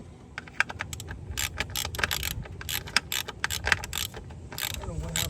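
A ratchet wrench tightens a 10mm bolt on a vehicle's manifold pressure sensor, giving rapid, close, crisp clicking strokes in quick repeated bursts with no talking.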